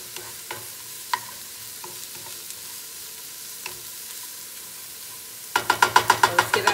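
Vegetables for a chickpea scramble sizzle steadily in a pan, with occasional soft clicks of a utensil, then a quick run of sharp rhythmic scraping and tapping as they are stirred near the end.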